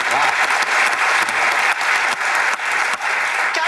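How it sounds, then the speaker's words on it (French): A TV show studio audience bursts into applause, a dense, loud, continuous roar of clapping throughout. "il y a des gens qui spontanément ont eu envie d'applaudir"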